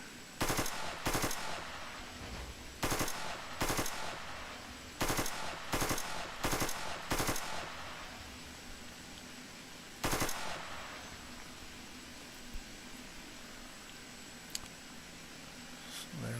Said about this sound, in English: you can point the gun where you want and then you can shoot